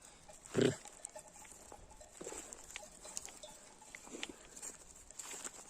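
A single short sheep or lamb bleat near the start, then quiet outdoor background with faint scattered rustles and distant sounds.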